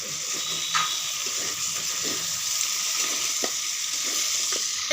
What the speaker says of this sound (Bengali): খুব সুন্দর করে কষিয়ে নেওয়া হচ্ছে